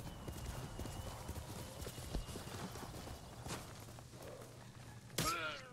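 Steady, rapid hoofbeats of a galloping horse clatter throughout, with a sharp sound near the end, in the video game Ghost of Tsushima.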